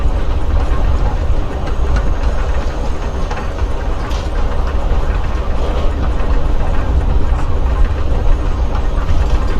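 A train in the video game Life is Strange: Before the Storm rumbles along the rails with a steady low drone and faint rhythmic clacking, continuous and fairly loud throughout.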